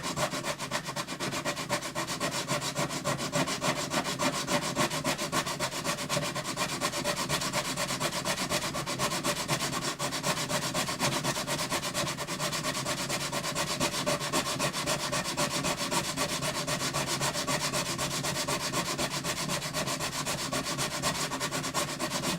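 Steady, loud, continuous sanding on the wooden bridge of a Yamaha FG180 acoustic guitar. The abrasive rubbing scratches on without a break and with no talk.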